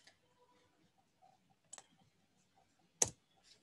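A single sharp key press on a computer keyboard, hitting enter, stands out as a crisp click near the three-second mark. A few fainter clicks come before it and the background is otherwise quiet.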